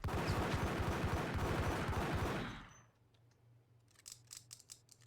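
Gunfire from the Max Payne video game: a loud, dense burst of shots fills the first half, cuts off abruptly, then a low hum remains until a few sharp, separate shots ring out near the end.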